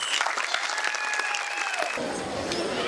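Parents clap loudly and steadily at a school annual concert, a dense wash of applause with a voice and some tonal sound running over it; the texture thins and shifts about two-thirds of the way through.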